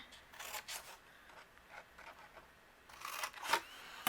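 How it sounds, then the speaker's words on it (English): Scissors snip slits into the scored sides of a paper gift box, a few close, faint rasping cuts in separate bursts with quiet handling between them, and no speech. "we're going to just trim 2 slits at the score marks"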